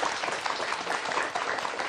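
Audience applause fills a training session in Vietnam, a dense, steady wash of many hands clapping close by throughout, with no voices over it.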